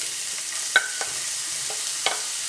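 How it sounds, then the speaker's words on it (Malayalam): Finely chopped onion fries in heated coconut oil in a pan while being stirred, a soft steady sizzle broken by a few sharp clicks and scrapes of the spoon against the pan, with no talk. "ഒന്ന് ചൂടായി വരുമ്പോഴേക്കും ചെറുതായിട്ട് അരിഞ്ഞ സവാള ചേർത്ത് കൊടുക്കാം"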